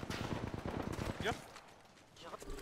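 Gunfire in Apex Legends rattles in a rapid burst of close, loud shots aimed at the player, followed by a quieter stretch and a few scattered distant shots, with a voice briefly speaking over the action.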